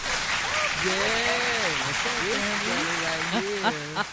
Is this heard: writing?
no